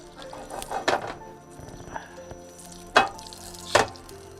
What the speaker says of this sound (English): this is some of that ghee butter right here. And I'm just gonna toss that in there.